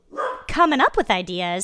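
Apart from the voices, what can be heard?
dog barking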